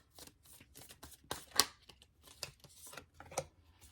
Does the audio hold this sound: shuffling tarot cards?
yes